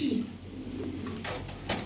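Fancy pigeons kept at home murmur a low, soft cooing near the start, against a steady room hum, with a few brighter rustling bursts toward the end.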